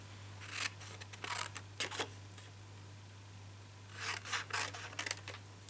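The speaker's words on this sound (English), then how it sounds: "So I'm going to cut it down nearer the size." Paper trimmer or scissors slicing through a piece of cardstock in two short bursts of rasping cuts separated by a pause, close and quiet over a steady low hum.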